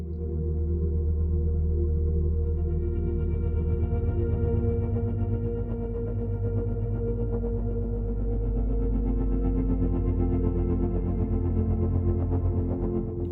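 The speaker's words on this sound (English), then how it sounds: "Let's add a little bit of reverb." Infinite Steel Tongue Kontakt instrument with a large 21-second reverb, a dense, low, washing metallic drone that sustains and swells continuously, loud and without speech.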